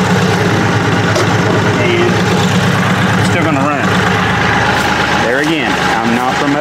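A Kioti CK series tractor engine idles steadily and loudly throughout, with a constant low rumble, while people talk over it nearby.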